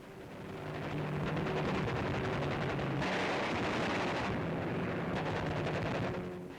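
Bombing attacks pound Nazi coastal installations on the Dutch coast in 1945, a continuous loud roar of explosions and rattling gunfire that swells, holds and fades over several seconds.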